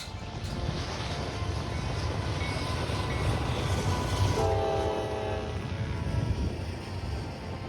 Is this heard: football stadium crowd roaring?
no